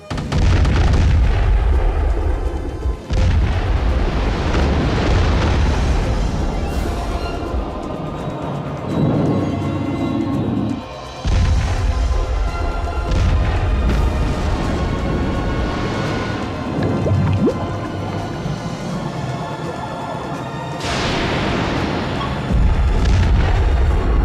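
Booming artillery blasts and gunfire roar continuously through a film battle scene in which a crew fights a giant octopus or shark, with heavy low rumbles, sharp cracks and repeated explosions. No voices are heard.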